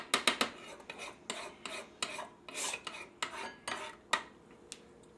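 A spoon stirs hot honey into a garlic herb glaze, giving a quick series of close scraping, clinking strokes against a bowl, sharp and uneven in rhythm, with no one talking.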